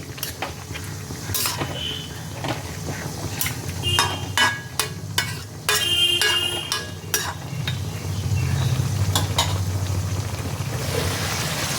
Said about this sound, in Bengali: বড়িগুলোকে আবারও একটু ঝোলের সাথে মিশিয়ে নিচ্ছি।